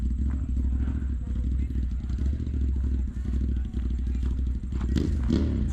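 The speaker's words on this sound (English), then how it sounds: "You got a lot of motorcycles." Motorcycles rumble past at a busy car show near Bear Mountain, a steady loud engine drone filling the whole stretch, with passing swells toward the end.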